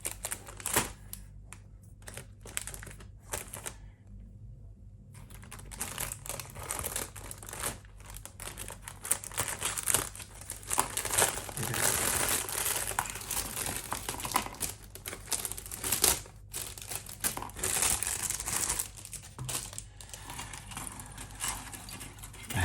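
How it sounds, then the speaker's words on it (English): A small plastic bag from a MiniArt 1/35 scale Oil Products Delivery Car model kit is cut open with scissors, giving close, steady crinkling and rustling with scattered sharp snips and no talking. "Very rusty little bag. So I'm gonna have to cut it open."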